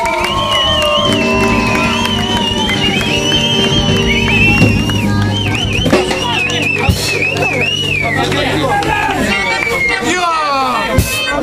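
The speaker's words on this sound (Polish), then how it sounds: "Brawa, gromkie brawa!" A festival crowd at a Kashubian folk sports contest cheers, whoops and whistles loudly, with continuous babble and shouting voices over the top throughout.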